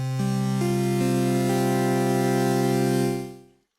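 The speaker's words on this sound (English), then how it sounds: "when you start it for the first time, you have a default preset that sounds like this." Default preset of the Nikaya wavetable and FM synth: a single sustained, harmonically rich tone with note changes early on, holding steady for about three seconds before fading out, with no voices.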